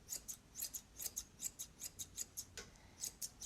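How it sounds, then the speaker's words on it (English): Scissors snip steadily through a dog's fur during a home grooming trim, a quick run of crisp, close metallic cuts in an even rhythm with no talking. "You kind of keep your scissors still as you're going."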